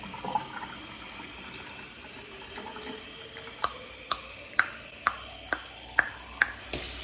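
Water runs from a household tap into a large reusable water bottle, a faint steady trickle joined later by a run of quiet, evenly spaced clicks or taps.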